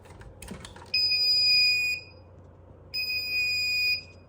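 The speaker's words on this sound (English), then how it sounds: "Sounds just like a fire alarm panel," A self-diagnostic emergency light's trouble buzzer, triggered by a disconnected battery, sounds a steady high-pitched electronic tone twice, each lasting about a second, separated by a pause, with faint clicks beforehand.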